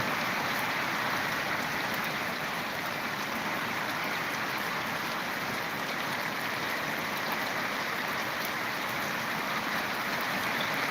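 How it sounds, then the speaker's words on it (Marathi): Heavy rain falls steadily as a dense, even wash of hiss and patter, constant and loud throughout with no voices. "एकदम जोराने पाऊस आहे जोराने येत आहे"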